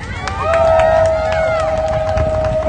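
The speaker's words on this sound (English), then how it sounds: "a round of applause for everyone" A crowd at a protest rally in Minneapolis cheers and hollers, loud and close, with a long sustained whistle-like tone riding over the noise.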